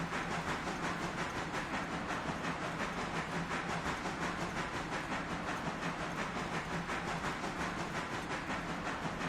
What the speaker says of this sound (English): The big train is here.